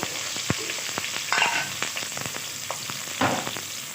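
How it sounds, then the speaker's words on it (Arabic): Chopped onions and carrots sizzle in hot oil at the start of a homemade chicken stock, giving a steady crackling hiss with scattered pops and a few louder stirring bursts. "هنا بقى الزيت سخن معانا، هننزل بالبصل والجزر"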